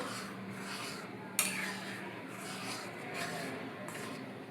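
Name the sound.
stirring semolina into boiling buttermilk in a pot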